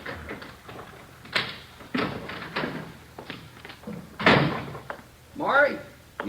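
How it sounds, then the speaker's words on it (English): Sound effects for a kitchen door in a 1950 NBC radio crime drama: scattered knocks and clunks, then a sharp thud and a short creaking squeal near the end, with voices speaking between them. "Yeah. Kitchen door."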